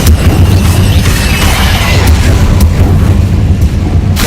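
Confringo fire-blast spell in Hogwarts Legacy, a loud continuous roaring explosive rumble with crackling bursts lasting the whole stretch, heavy low-end booms sustained without pause.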